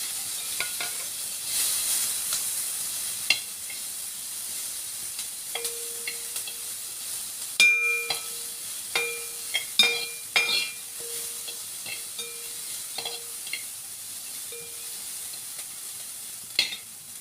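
Chopped onion sautéing in a pan with mustard seeds, urad dal, a little toor dal and turmeric: a steady soft hiss broken by intermittent clicks and scrapes of stirring, with no talk.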